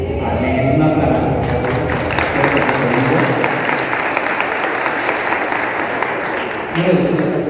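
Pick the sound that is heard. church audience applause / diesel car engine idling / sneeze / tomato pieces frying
church audience applause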